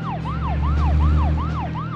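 A police car siren in the video game Deadly Premonition: Origins wails in a steady repeating up-and-down sweep over a low engine drone, loud and close.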